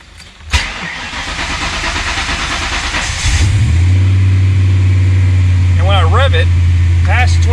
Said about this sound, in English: Now, just as a quick test, I'm going to turn the engine over.